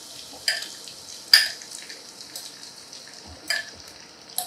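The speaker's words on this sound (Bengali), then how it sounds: "তারপর আমরা পাস্তাটা দিয়ে দিচ্ছি" Pasta goes into a pan with butter and chopped garlic: a faint, steady sizzle broken by a few sharp clinks and scrapes of a utensil against the pan, with no talking.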